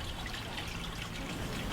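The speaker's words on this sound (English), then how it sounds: "trickling water" Water trickles steadily in woods in late November, a continuous soft babbling wash with no breaks and no voices.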